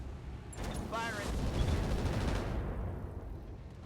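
Mech weapons fire in the RogueTech video game, a dense rolling barrage of gunfire and blasts that runs for a few seconds and then fades, with a spoken voice laid over it.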